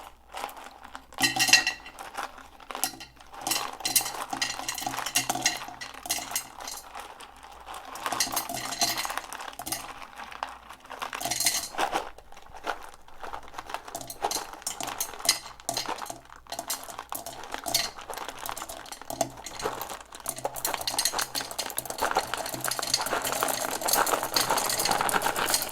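Rocks clatter and rattle as they are dropped and shuffled into a container, a busy irregular stream of hard knocks and scrapes continuing throughout.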